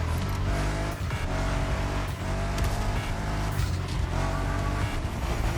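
A 2024 Aston Martin Vantage in the racing game The Crew Motorfest roars steadily at speed, its engine note loud and continuous, with brief dips where it shifts gears or passes other cars.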